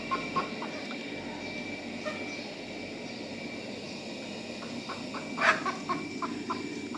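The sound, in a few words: hens clucking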